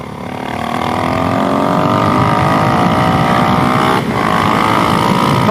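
Motorcycle at full throttle on a motorsports park track in fourth gear, a loud steady engine roar with rising pitch that dips briefly and keeps pulling, recorded close and alone.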